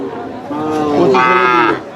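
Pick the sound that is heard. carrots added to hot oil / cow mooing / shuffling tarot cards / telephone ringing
cow mooing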